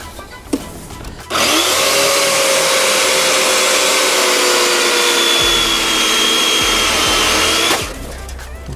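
A WORX 16-inch electric chainsaw cuts through a thick piece of wood, starting with a sudden loud whine that holds steady and close for about six seconds before stopping abruptly.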